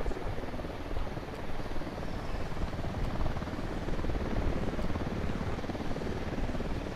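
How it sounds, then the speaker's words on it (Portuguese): A patrolling helicopter in the Ghost Recon Wildlands video game gives off a steady, fairly faint rotor drone and whir that holds constant throughout, with no talk over it. "Helicóptero da unidade,"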